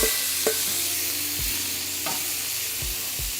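Shrimp sizzling in butter alongside sausage and vegetables, a steady close frying hiss with a few sharp spatula scrapes and taps breaking through at intervals.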